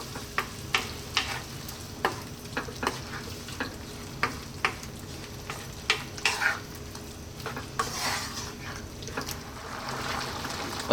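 Red lentils being stirred and fried in a pan over high heat, the spoon knocking and scraping in irregular strikes over a steady sizzle, heard close with no voices.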